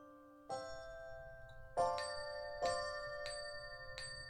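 Bell chimes from the Christmas puzzle video game Milo and the Christmas Gift: four or five bright ringing strikes spaced about a second apart, each with a long shimmering decay over a quiet background, no voices.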